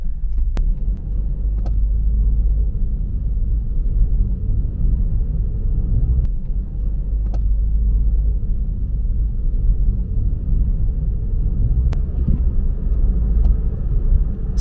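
A car drives into a town in Fuding on a road called Taimu Road, its engine and tyre noise a steady low rumble throughout, with a few faint clicks and no talking.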